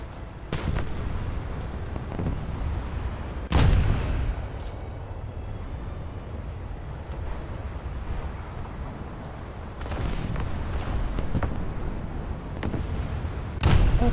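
Booming naval cannon shots from warships in a video game, a few heavy blasts spaced several seconds apart over a constant low rumble.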